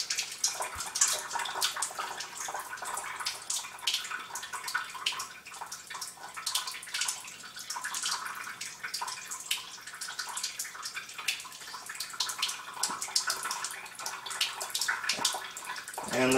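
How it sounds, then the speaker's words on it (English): Alkaline water from a Chanson Miracle PL-B702 ionizer is dumped out and a cup rinsed, a close splashing and trickling of water into a sink that runs continuously, with light clinks. "we'll dump this alkaline water out here and rinse out the cup a little bit"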